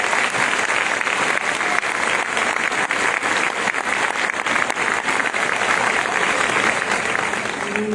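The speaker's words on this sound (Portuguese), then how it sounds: "Vamos receber a Letícia aplaudindo a Jesus bem forte" A church congregation applauds loudly and steadily in a Pentecostal-style service, a dense crackle of many hands close by that holds for several seconds without letting up.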